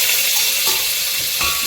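Garlic sizzles loudly in cooking oil with mala paste in a pan, a close, steady hiss with faint stirring.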